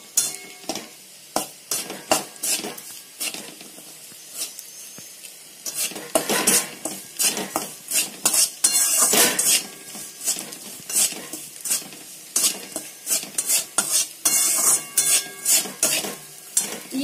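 Plain sesame seeds roasting in a hot pan while being stirred for jaggery laddoos, with repeated scraping and rattling strokes of a spoon against the pan over a light sizzle, close and busy, no talk.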